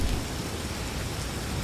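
Heavy rain pours steadily on a cold night, a dense, even wash of noise with a deep low rumble underneath, continuous and fairly close throughout.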